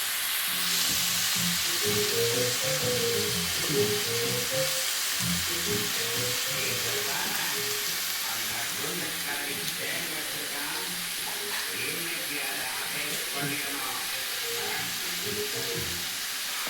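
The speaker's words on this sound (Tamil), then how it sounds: "இப்போ நண்டை நல்லா வதக்கும்" Crab frying in hot oil with onion, tomato, green chilli, fennel and fenugreek in a pan for crab curry: a steady, bright sizzle with occasional stirring scrapes, while a voice talks quietly beneath it.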